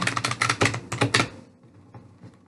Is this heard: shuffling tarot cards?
yes